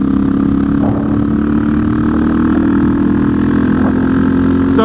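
A KTM 660 SMC single-cylinder motorcycle cruising in fifth gear, its top gear, with a loud, steady engine drone and road rumble heard close from the rider's position, no talking.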